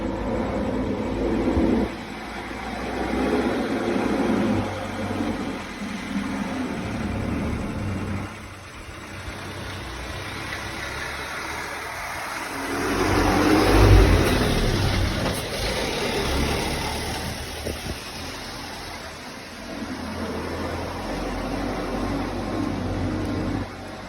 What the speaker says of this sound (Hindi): गाड़ी आ रही है, गाड़ी आ रही है।